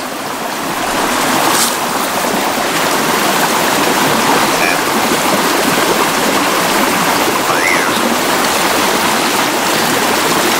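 Creek water flowing near a ranch ruin, a loud, steady rushing and babbling that fills the whole stretch close up, with no talk heard over it.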